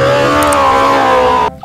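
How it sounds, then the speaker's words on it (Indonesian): A toy race car gives a steady buzzing motor whir for about a second and a half, close and fairly loud, cutting off abruptly at the end. "ini mobil balap."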